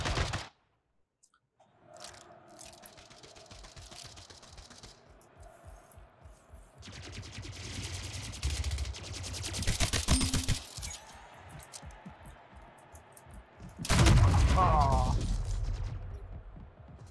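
Gunfire bursts from the video game Splitgate, with rapid rattling volleys and sharp shots between quieter stretches and loud peaks near the end, while a player talks intermittently.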